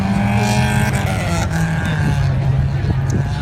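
At the start of a race at Vendrenne, a field of race cars pulls away from the grid in a sustained, loud roar of engines that fills the whole stretch.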